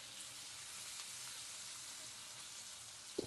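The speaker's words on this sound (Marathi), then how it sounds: "कांदा आणि टोमॅटो मऊ झाला त्यामध्ये टाकून द्यायची आलं लसणाची पेस्ट." Onion, tomato and ginger-garlic paste fry in a pan with a soft, steady sizzle, faint and continuous, ending with a brief utensil clink.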